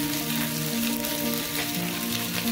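Rajma masala gravy fries in oil, giving a steady close sizzle with faint bubbling that runs unbroken from start to finish, with no voices over it.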